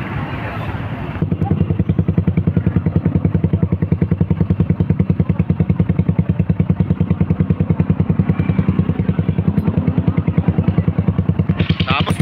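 A Suzuki Raider Gen 1 motorcycle with an aftermarket exhaust pipe idles close by, a loud, steady, rapid popping burble that holds evenly for the whole stretch after a brief softer start.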